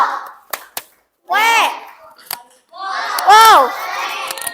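Elementary school children in a classroom do a rhythmic clapping chant, a few sharp claps followed by two loud bursts of young voices chanting together, with brief pauses between.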